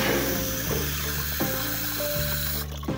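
Water sprays from a garden hose nozzle set to shower in a backyard garden, a close, steady hiss with short breaks and tonal shifts as the flow is adjusted, no talk.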